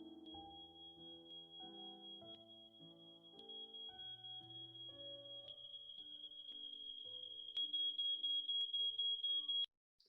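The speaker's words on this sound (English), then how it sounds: "There's a smoke alarm playing, it gets very loud as you approach it." A smoke alarm in a simulated virtual room, a steady high electronic tone that grows louder toward the end, heard alongside piano notes playing a melody, then stopping abruptly.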